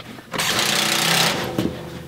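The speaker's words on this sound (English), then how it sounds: "so I'll just screw it down in the back" A screw is driven into the back of an old metal typewriter stand being turned into a bandsaw cart, giving one loud, close whirring burst of a power driver that lasts about a second, then a brief knock.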